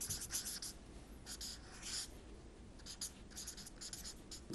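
Marker or chalk strokes on a classroom board, a run of short scratchy squeaks and taps in an uneven rhythm, close and fairly faint with no talking.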